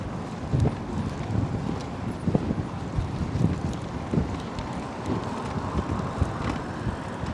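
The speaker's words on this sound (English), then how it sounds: "It's a little bit windy right now." Wind gusts buffet the microphone of a bicycle riding along a New York City street near 14th Street, a steady rushing roar with irregular low thumps throughout.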